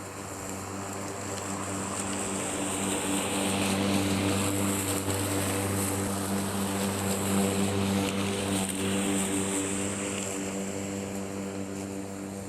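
A steady droning motor hum with a constant whine and whirring blades from a Stiga Collector 48 S AE cordless electric lawn mower cutting grass, close and continuous throughout, no talking.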